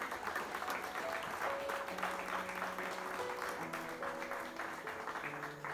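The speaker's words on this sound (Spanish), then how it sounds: "Dale ese aplauso al Rey." A church congregation applauds steadily and quite faintly during a sermon, while sustained musical tones play softly underneath.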